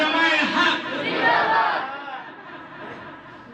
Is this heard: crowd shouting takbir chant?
yes